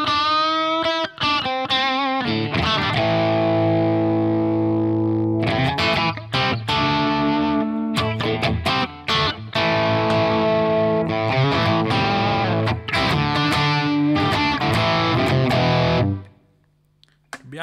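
Electric guitar with split-coil pickups and boost on, played through a VHT Pittbull 100 CL amp at low gain, sustained distorted chords and picked notes ringing loudly, then cutting off near the end.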